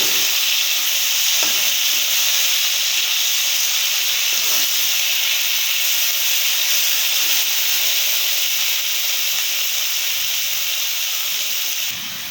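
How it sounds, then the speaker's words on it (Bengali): Fish sizzles in hot oil in a village kitchen while it is turned over for even frying. A loud, steady hiss fills the whole clip, with a few faint clinks and scrapes from flipping. "আমরা এখন মাছ একটু উল্টেই পাল্টাইয়া দেবো ভালো করে ভাজার জন্য দুই তিনবার উল্টে উল্টে ভাজবো"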